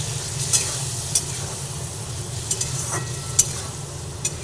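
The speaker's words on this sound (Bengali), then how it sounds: "আবার একটু নাড়াচাড়া করে নিই বেগুনগুলো" Eggplant pieces stirred in a pan for a fish curry, a spoon scraping at intervals over a steady low sizzle, close and alone.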